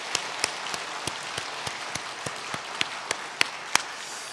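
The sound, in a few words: church congregation applauding the choir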